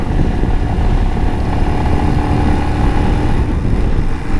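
Motorcycle engine labouring at high altitude on the climb to Zojila pass, around 4,500 metres, lacking its usual punch; a steady, loud, continuous drone with no talk over it.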